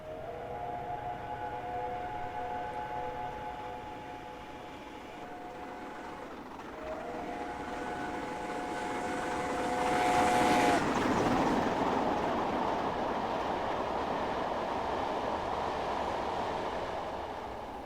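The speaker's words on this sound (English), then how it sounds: "The approaching train is not scheduled to stop at this station." Train Simulator 2017 express passing through a station without stopping, a sustained two-tone horn sounding over steady rail rumble that swells to a loud rush as the train goes by.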